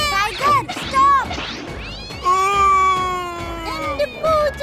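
A cartoon kitten meows in several drawn-out, wavering cries, with animated voices talking around and between the calls.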